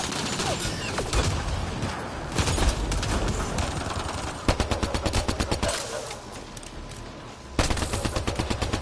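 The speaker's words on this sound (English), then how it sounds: "Just keep firing!" Mass Effect Andromeda firefight with sustained automatic weapon fire: continuous rapid bursts and clattering volleys, loud and close, broken by short pauses, with distinct staccato runs near the end.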